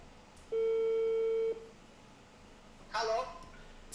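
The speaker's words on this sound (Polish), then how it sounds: "dzwonię jeszcze raz do Isamu. Odbieraj telefon." A single steady electronic ringing tone sounds for about a second on a phone line, followed by silence and then a brief burst of voice.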